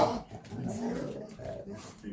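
Dogs play rough at home, trading low growls and grumbles through the whole stretch, fairly close but soft, with indistinct voices murmuring underneath.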